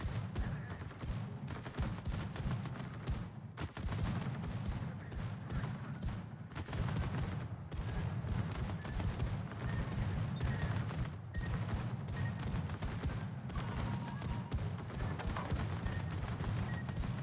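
Anti-aircraft guns fire in World of Warships in a dense, continuous barrage of rapid rattling bursts with brief pauses, steady and moderately loud throughout, without talk.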